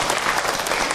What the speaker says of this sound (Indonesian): tepuk tangan buat Aiman.